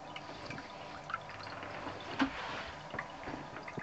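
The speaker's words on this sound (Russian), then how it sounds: "Да, журчит, журчит туда-сюда водичка." Water gurgles and trickles continuously like a small waterfall in a kitchen appliance being used for cooking, a soft, steady babbling with occasional brighter splashes.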